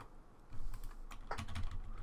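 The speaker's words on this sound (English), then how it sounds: "just using the arrow keys to move back and forth" Computer keyboard arrow keys tapped while editing in Vegas Pro 16, a handful of quiet, close clicks spread irregularly over a couple of seconds.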